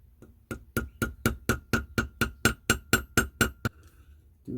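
Rapid, evenly spaced taps of a small hammer peening a metal rivet for jewelry, about fifteen sharp bright metallic strikes in a steady rhythm, close up, then stopping.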